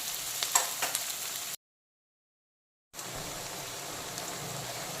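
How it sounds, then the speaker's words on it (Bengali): Chopped onions fry in a pan with a steady, fine sizzle, briefly cut to silence before the crackling resumes at the same moderate level. "যতক্ষণে পেঁয়াজ কুচিটা ভাজা ভাজা হচ্ছে"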